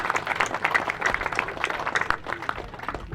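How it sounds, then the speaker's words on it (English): Crowd applause at a park grand reopening ceremony honoring city park officials, a steady patter of many hands clapping throughout at moderate volume, fading slightly toward the end. "Let's give them a big round of applause"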